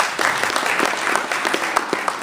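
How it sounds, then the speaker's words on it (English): Audience applause at a community people's power assembly in San Diego, a steady wash of many hands clapping throughout, fairly loud and close with a few sharper claps standing out. "Give yourselves a round of applause."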